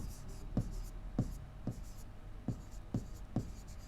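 Chalk or pen strokes during a maths lesson on whole numbers, six short taps spaced about half a second apart against a steady quiet room hum.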